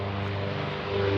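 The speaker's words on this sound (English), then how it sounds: "Sorry about the plane" A propeller airplane drones steadily overhead with a low tonal hum, continuous and fairly loud throughout the short stretch, with no talking.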